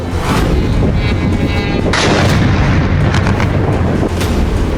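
Explosions from drone strikes on the Morozovsk airbase roar as a loud, continuous barrage of deep booms and rumbling blasts, one merging into the next with no pause.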